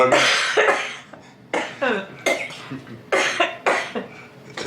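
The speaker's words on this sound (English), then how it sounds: "Oh my God, that cough is horrific." A person coughs repeatedly in harsh, rasping bursts, close and loud, about six or seven coughs in an uneven rhythm.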